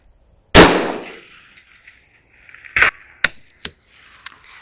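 A single sharp crack from a short-barrelled rifle is followed by a fainter metallic ring from a steel target. Several smaller clanks and knocks come after, with no talking.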